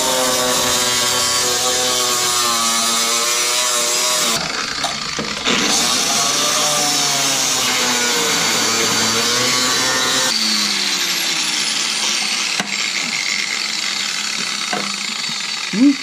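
A loud, high-pitched whine of a cutoff wheel grinding through sheet metal on a third-generation Camaro, its pitch wavering as it cuts, pausing briefly a few times.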